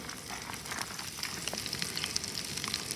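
Garlic sizzles in a pan over high heat for Filipino fried rice, a close, steady crackling fry with fine popping bursts and no voices.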